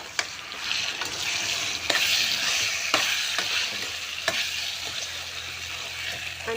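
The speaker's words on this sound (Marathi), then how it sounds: "आणि व्यवस्थित परतून घ्यायचं 1-2 मिनिटं." Roasted eggplant sautéed with asafoetida in a pan for a Jalgaon-style bharit: a steady loud sizzle and frying hiss, broken by several sharp scrapes and knocks of a spoon stirring against the pan.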